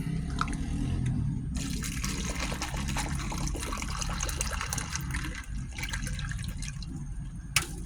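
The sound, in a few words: pouring green tea into a cup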